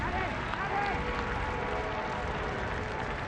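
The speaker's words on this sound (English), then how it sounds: "We'll get some deserved applause from the home fans" Home fans applaud at a soccer match as a substitute comes on, a broad, continuous crowd roar with clapping, loud and steady throughout.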